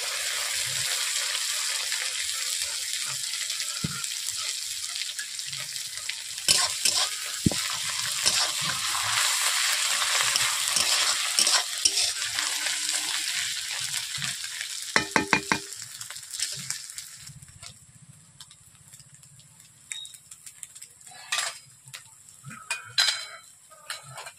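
Browned onions frying in hot oil give a steady, bright sizzle, which dies down midway as ginger garlic paste goes in, followed by occasional scraping and stirring clinks near the pan.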